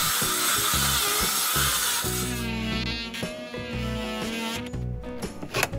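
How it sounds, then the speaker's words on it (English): A power saw cuts back plywood sheathing on a house wall, giving a loud, close, continuous buzzing whine with the motor pitch wavering as the blade works through the wood. "David cuts back the plywood to the edge of the siding."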